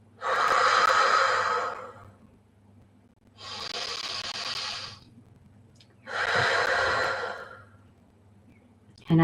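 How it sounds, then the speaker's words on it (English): A person takes three slow, deep breaths during a guided meditation, each a long audible inhale-exhale rush separated by quiet pauses, close and clear with no talking. "taking 3 deep breaths."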